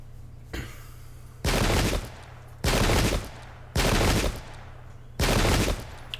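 Musket volleys from an English Civil War battle at Bristol in a video game, four loud crackling bursts each lasting about half a second, spaced roughly a second apart over a low steady hum, with a fainter shot at the start.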